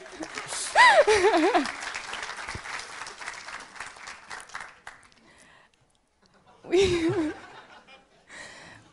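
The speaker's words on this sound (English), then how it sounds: "Round of applause" Audience applause at a startup demo day event, a burst of clapping mixed with chuckles and laughter, fading under an announcer's voice, then a second short swell of clapping and laughs near the end.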